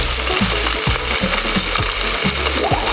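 A fish fillet, fatty-skinned and flesh side down, sizzles in a dry pan with no oil added, giving a steady close crackling hiss with irregular soft pops throughout.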